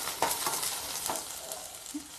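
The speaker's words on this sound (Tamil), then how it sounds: "வெங்காயத்தை போட்டு நல்லா வணக்குங்க." Onions sauté in hot oil for an egg gravy, a soft, fairly quiet sizzle broken by a few light utensil scrapes and clinks against the pan.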